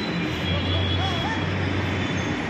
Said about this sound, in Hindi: तो गाइस हमारी मेट्रो भी आ गई है।